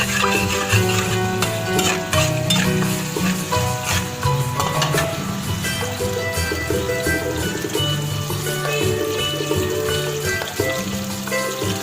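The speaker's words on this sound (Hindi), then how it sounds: "ये हमारा लहसुन अदरक फ्राई हो रहा है।" Garlic and ginger frying in about eight spoons of oil in a kadai, a loud, steady close-up sizzle with crackling spits and occasional stirring, alone with no talk.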